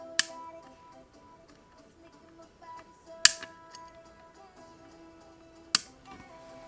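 Cutters snipping the component legs on an electronic badge during assembly, three sharp isolated clicks a few seconds apart, close and crisp over a quiet room with faint background hum.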